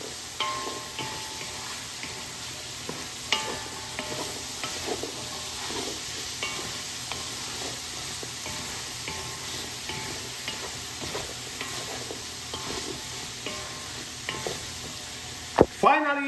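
Chickpeas stirred and fried in a pan, a steady sizzle under repeated scraping and clinking of a utensil, with one sharp knock near the end.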